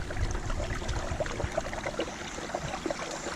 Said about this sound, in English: Just hear the water just rushing out of a, looks like an old pipe right there